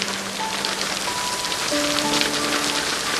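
Steady rainfall pattering on a surface, a dense continuous hiss of drops with faint tonal hums underneath, no voices.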